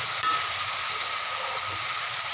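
Ginger and spice paste fries in a hot pan, a steady close hiss and sizzle held throughout with faint scraping from stirring underneath, no voices.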